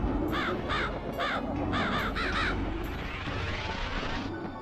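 Crows caw repeatedly in MediEvil on the PlayStation, a rapid series of harsh, rasping calls in clusters over a dense, loud game background of rumble and noise.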